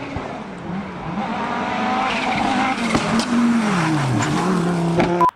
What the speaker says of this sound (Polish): we are going to take a point of view ride in the Audi rally car